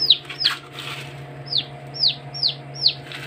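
Roosters and hens of fighting breeds, including Rhode Island Reds, give a series of short, sharp chirping clucks, about six of them spaced irregularly, near and clear over a steady low mechanical hum.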